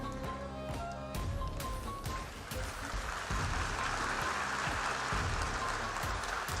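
Audience applause at a summit, a steady wash of many hands clapping that builds slightly and continues throughout, with a few sharper claps standing out near the start.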